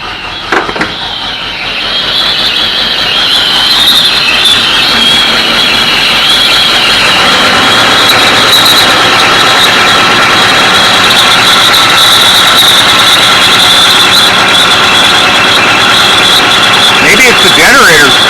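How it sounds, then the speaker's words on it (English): A 1955 Oldsmobile Super 88 runs with a loud, steady high-pitched squeal from its power steering pump riding over the engine noise, continuous and close. "Now, that horrible sound, I think, is the power steering pump."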